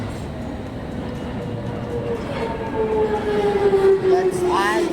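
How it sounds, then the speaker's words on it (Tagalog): A train pulls into a UK station platform with a rising rumble and a squealing brake whine that climbs toward the end, and a voice speaks briefly over it. "My train is there and here it is, here it is."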